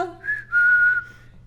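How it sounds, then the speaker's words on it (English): A person whistles the tune of Camptown Races, a short bright melodic phrase of a few sustained notes, close and clear with nothing else over it. "During this joyful scene of whistling and singing"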